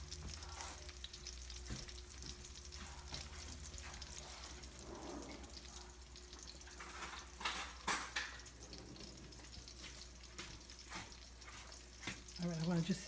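Meatballs fry in a pan with a steady, soft sizzle throughout, broken by a few clinks and scrapes and some water-like sounds near the end, all fairly quiet and close.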